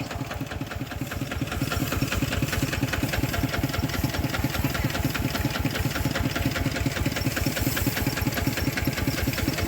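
A loud, steady engine chugging with a rapid rhythmic knock, running continuously and close by, from a farm tractor working during a rice harvest.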